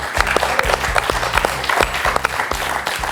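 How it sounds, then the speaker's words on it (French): Studio audience applause for a contestant on the French quiz show Questions pour un champion, loud, steady clapping from many hands over a rhythmic musical beat. "On applaudit Jean-Marie."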